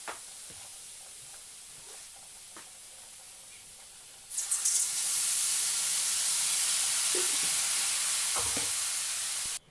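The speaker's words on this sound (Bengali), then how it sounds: "সরু পেঁয়াজ কুচি দিয়েছি আর দুটো গোটা লঙ্কা বাঁধা কিছু না আর জিরে ফোড়ন দিয়ে রান্না করছি" Sliced onion, whole chilies and cumin seeds frying in a pan for a potato-eggplant curry, quiet at first, then a loud, steady sizzling hiss that starts abruptly and holds until the end.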